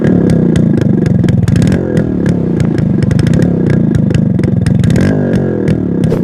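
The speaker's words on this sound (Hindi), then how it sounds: "ये बाइक जितनी प्यारी है इतनी प्यारी इसकी आवाज़ भी है।" An old high-mileage Yamaha motorcycle idles up close, its engine thumping in a loud, steady, rapid rhythm with sharp periodic ticks and clatter, heard alone.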